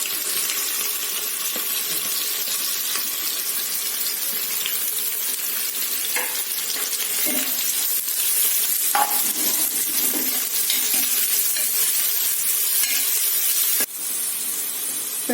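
Three chopped onions fry in a pan of oil for chicken biryani with a constant crackling sizzle. Occasional spatula scrapes and stirring knocks sound up close, and no one speaks.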